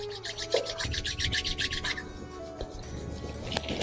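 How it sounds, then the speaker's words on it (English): Two palms rubbed briskly together at the close of a meditation, a near, quick back-and-forth swishing with a pulsing rhythm that fades into quieter rustle. "Rub your palms physically together now."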